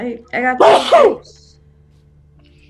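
A single loud sneeze bursts out right after a short spoken phrase, then fades into quiet room hum.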